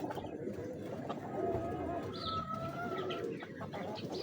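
Ferozpuri pigeons coo softly and repeatedly in a loft, with low throaty calls layered over a busy background of other birds and faint distant voices.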